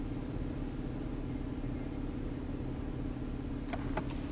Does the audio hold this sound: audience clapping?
no